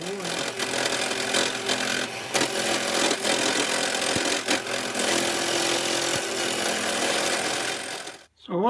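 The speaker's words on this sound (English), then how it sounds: "I want to turn my wood down to that diameter just at this end right there" Wood being turned down on a lathe for a wine bottle stopper collar, a continuous scraping, whirring cut with tonal hum, steady and close, with brief pauses in the cut and a short stop near the end.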